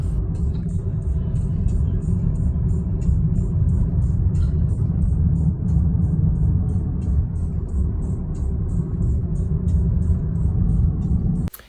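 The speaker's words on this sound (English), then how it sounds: "And here's me driving into the canyon." A car drives into a canyon near Amarillo, Texas, with a steady low engine and road rumble inside the cabin that holds evenly throughout and then cuts off abruptly at the end.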